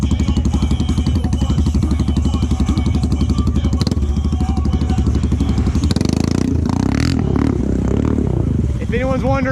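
Engine of a Honda Rancher ATV revving hard while stuck in mud, a loud, steady throbbing drone with clattering and splashing, rising toward the end, as people talk over it.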